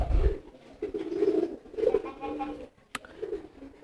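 Pigeons coo in soft, low, throaty repeated phrases close by, with a brief sharp click and some faint background voices.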